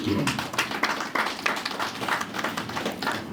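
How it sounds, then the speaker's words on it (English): Applause for the media at a school tournament launch, a short burst of scattered clapping from a crowd that runs for a few seconds, with a voice mixed in beneath it. "let's give the media a big round of applause"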